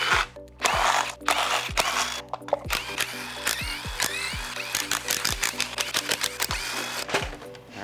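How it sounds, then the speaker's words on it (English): A ratchet or power tool works the bolts on an engine's valve cover during a high-mileage engine teardown, in short repeated mechanical bursts with clicks, whirs and pauses between them, close and fairly loud. "You want to take off the valve cover and really see what we're working with?"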